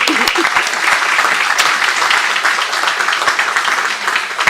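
At a high school Hall of Fame induction, a hall full of people claps steadily and fairly loudly, a continuous wash of applause with a few sharper claps standing out, lasting several seconds.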